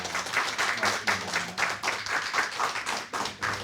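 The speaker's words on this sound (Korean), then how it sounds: "우리 박수로 환영합니다" A church congregation applauds to welcome a guest speaker, quick rhythmic clapping in near-regular bursts, fairly close and moderately loud, with no one talking over it.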